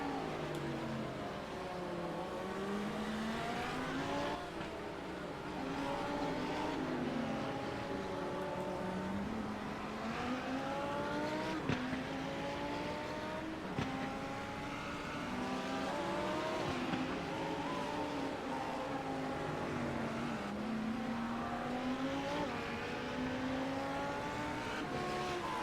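Lamborghini GT3 race car at speed around Donington circuit, engine note rising and falling through gear changes with continuous loud revving, distant to mid-range, no voices.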